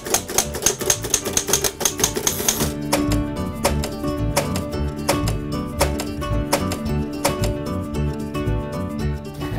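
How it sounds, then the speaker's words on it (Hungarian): An American Royal desktop typewriter is typed on at close range, with sharp key strikes in quick bursts and then a steadier rhythm of clacks and mechanical rattles. "Ez egy amerikai royal gép, egy asztali gép, azt jelenti, hogy nagy."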